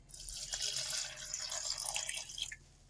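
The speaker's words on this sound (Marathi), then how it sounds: "आता याच्यात मी 1 ग्लास पाणी टाकते" Water is poured into a glass for sharbat, a quiet, close, bubbling trickle lasting about two and a half seconds before it stops.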